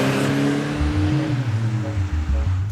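A 2024 BMW X2 xDrive28i heads up a street, its engine giving a steady, shifting drone with rising and falling tones and continuous road noise, close and fairly loud with no talk.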